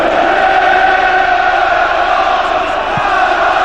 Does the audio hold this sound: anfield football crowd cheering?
yes